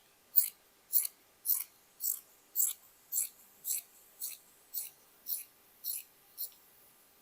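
Scissors snip through a piece of dress fabric in about a dozen crisp, evenly spaced cuts, close and quiet against silence.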